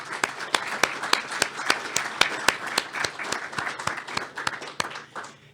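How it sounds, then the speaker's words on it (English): Small audience at a talk on map use clapping for presenters, a sparse group of distinct hand claps in an uneven rhythm, fairly close, gradually thinning out toward the end. "let's give all our presenters a round of applause"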